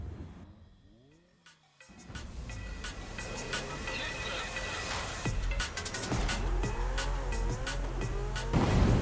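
A Porsche race car in Forza Horizon 5 revs and accelerates with a steady loud engine drone, shifting pitch and squealing tires, while someone talks over it.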